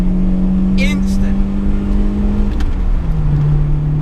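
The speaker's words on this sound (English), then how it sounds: "Revs still fantastically high." BMW M3 E30 engine holds a steady, loud whirring drone from inside the moving car, its pitch easing slightly toward the end, with a brief voice over it.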